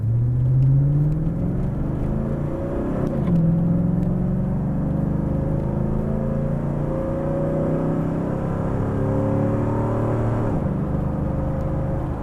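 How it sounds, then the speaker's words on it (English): A Corvette engine accelerating hard at about 80% throttle, a loud, close droning roar with rising pitch through the gears, sustained throughout with brief dips at shifts. "for this last test, I'm just going to accelerate a little harder"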